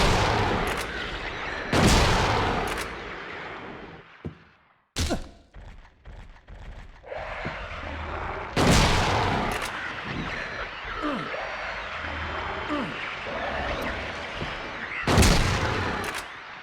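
Shotgun blasts in Silent Hill 2, four loud, widely spaced booming shots with clattering and thumps between them, alone without talk.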